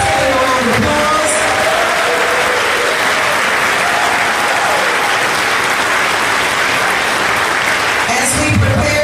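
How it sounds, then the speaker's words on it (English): An audience at a city inaugural swearing-in ceremony applauds the mayor and city council, a loud, dense and continuous round of clapping that lasts throughout with a little crowd noise. "please give them a round of applause"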